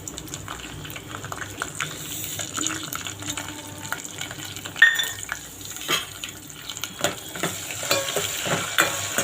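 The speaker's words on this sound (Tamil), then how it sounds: "இதெல்லாம் கொஞ்ச நேரம் வதக்கினா போதும்." Ginger garlic paste sautéing in a pan for chicken 65 gravy, a steady sizzle with scraping stirs and occasional clinks throughout, close and moderately loud, no talking.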